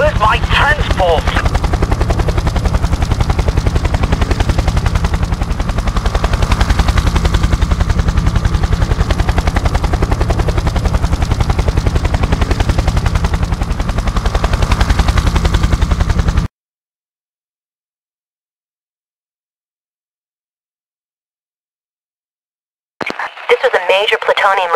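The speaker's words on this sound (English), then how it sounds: "X escaped, flying off in a helicopter." A helicopter flying off in the video game IGI, a loud steady rotor drone with radio chatter and gunfire-like bursts over it, then a sudden cut to silence before a brief return.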